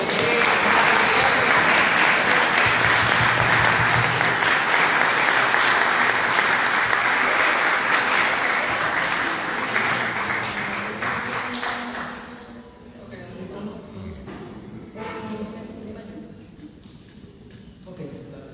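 Audience applause at a guarania music night in Paraguay, a full sustained round of clapping that fills the room for about twelve seconds before thinning out and fading into quieter scattered sounds.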